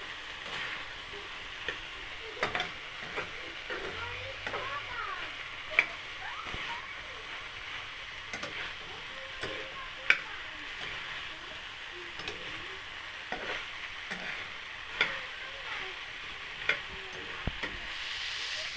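Okra sizzles in a frying pan for adobong okra, with a spoon stirring through it in scattered scrapes and knocks over a steady crackling fry.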